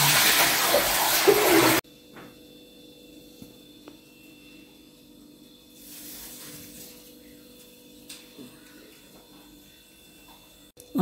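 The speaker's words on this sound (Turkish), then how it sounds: "Öncelikle ellerimi yıkıyorum." Hands are washed under running tap water in a home kitchen, with a brief rush of water at the start that stops abruptly, followed by quiet room hum and a few faint clinks.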